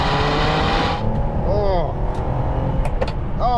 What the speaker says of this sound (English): At times it sounds like a V8, but it's just got a lot more of a gruff demeanour than modern Ferrari V12s.